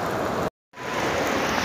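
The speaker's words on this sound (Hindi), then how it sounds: "बारिश भी इस टाइम फुल तेज़ हो गई है" Heavy rain pours steadily in Medina, a dense, even hiss close by that cuts out completely for a moment and then resumes at full strength.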